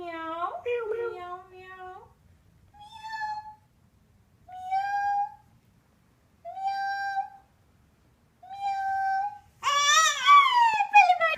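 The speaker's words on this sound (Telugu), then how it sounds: "పిల్లి" Cat meowing repeatedly, five or six drawn-out, fairly close meows separated by pauses, the last one louder and more strained.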